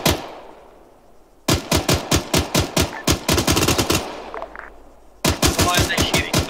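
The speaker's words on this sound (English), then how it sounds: "Why are they shooting first?" A rapid string of sharp, loud gunshots in the Arma 3 military video game, firing in a quick regular rhythm, pausing briefly, then resuming in another fast burst.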